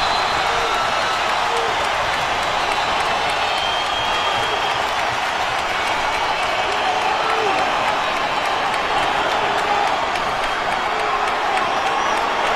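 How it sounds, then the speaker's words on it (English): A fight arena crowd roaring and applauding continuously during a Forrest Griffin vs Rampage Jackson bout, a broad steady wall of cheering with a commentator talking over it. "This crowd is going nuts."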